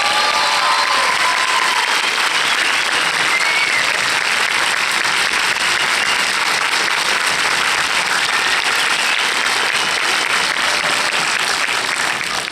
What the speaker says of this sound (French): un tonnerre d'applaudissements de public heureux